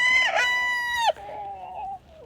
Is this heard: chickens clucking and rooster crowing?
yes